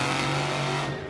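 A Black Pearl monster truck engine revs at a Monster Jam event in Orlando, a loud, steady, throaty roar held close for about a second before easing slightly at the end.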